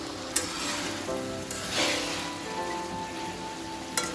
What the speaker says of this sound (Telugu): చికెన్ ఫ్రైకి నీళ్ళన్నీ ఇంకిపోవాలండి.